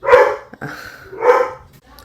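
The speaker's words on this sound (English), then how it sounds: "I'm sorry if you can hear my dog barking." Dogs bark a couple of times at close range while play fighting over a chew bone indoors, short sharp barks separated by a brief pause.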